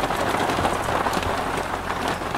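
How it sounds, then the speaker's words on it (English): Heavy rain pours steadily onto an RV roof in Arizona, a dense, even drumming hiss that fills the whole clip with no pauses or talk. "we're having a little bit of a downpour here"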